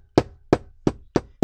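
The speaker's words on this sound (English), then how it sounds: "I'm going to do the rest with my hammer." Five hammer blows on a metal eyelet at a steady rhythm, each a crisp, close, ringing knock with brief silence between.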